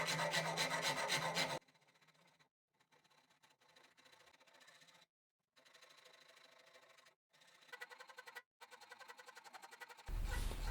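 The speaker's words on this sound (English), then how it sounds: "First, I need to narrow them up a bit with a rasp." A rasp files the tips of an Osage orange bow in short scraping strokes, quiet and close, in several bursts separated by brief silent pauses.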